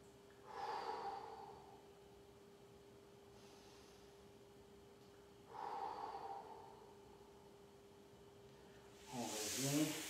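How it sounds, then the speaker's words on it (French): Two slow, deep breaths during a hockey training stretch, each a soft airy inhale-exhale spaced several seconds apart over a faint steady hum, close and quiet. "puis on respire 3 bonnes respirations"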